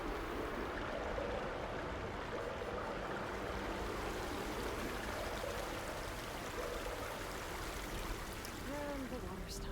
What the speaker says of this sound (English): Look at all the water.